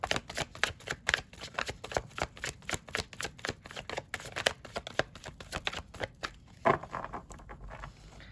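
Tarot cards being shuffled close up, a steady, quiet run of soft riffling flicks and paper patter lasting several seconds with no talking.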